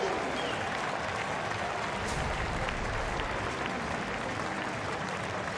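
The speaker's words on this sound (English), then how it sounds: "And the applause." A cricket stadium crowd at a New Zealand versus Bangladesh one-day international applauds in a dense, continuous roar of clapping, broad and fairly distant, with no gaps.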